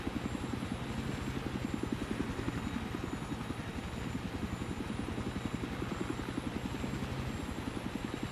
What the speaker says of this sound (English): Hopefully, I remember how to fly choppers.